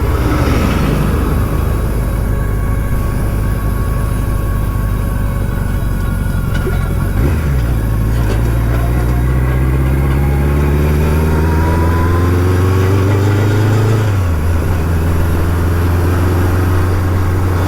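A BMW K100LT motorcycle with sidecar and 8 valve engine runs loud and close, its steady drone rising and falling through revs with repeated upward sweeps as it accelerates.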